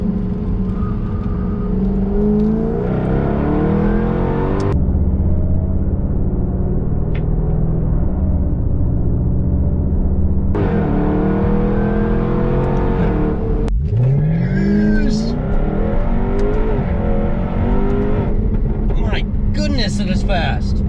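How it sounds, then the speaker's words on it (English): A 2017 Jaguar F-Type R all-wheel drive accelerates hard, its engine climbing in pitch through several gear changes with brief pauses between shifts, loud and close, with people talking over it. "2017 Jaguar F-Type R all-wheel drive."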